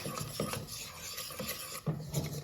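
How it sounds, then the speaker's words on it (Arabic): A spoon scrapes and swirls through melted butter and flour in a pot for béchamel, with irregular scraping strokes and light sizzling underneath, close and alone. "غادي نخلطهم مع بعضياتهم هكا باش نديرو بيشاميل"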